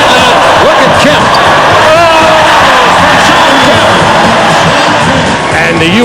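A packed basketball arena crowd cheers for Shawn Kemp, loud and continuous, with yells and shouts rising out of the roar and faint voices mixed in throughout.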